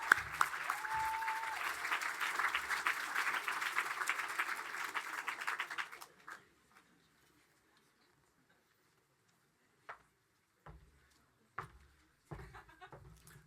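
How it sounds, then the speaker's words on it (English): An audience at a college leavers' ceremony claps for about six seconds, dense and steady, then stops abruptly into near silence broken by a few isolated knocks and shuffles. "So I think we need a big clap for Madiba."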